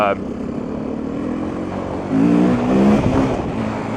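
A vehicle with an oil problem idles and rolls gently along a tame Hampshire green-lane byway, a steady low engine drone that rises slightly midway, with no one talking.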